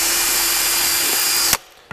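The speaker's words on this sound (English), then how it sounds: "cordless drill, and I'm going to just put some pilot holes in on the entry" A cordless drill boring pilot holes into wood runs with a loud, steady high whine for about a second and a half, then cuts off abruptly, leaving a quiet room and a brief knock at the end.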